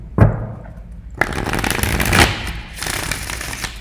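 Tarot cards are shuffled in quick riffling bursts, a sharp snap followed by longer rustling runs, close and fairly loud.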